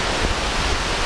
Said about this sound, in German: Ungefähr 10 Minuten später sind wir jetzt hier bei den Wasserfällen.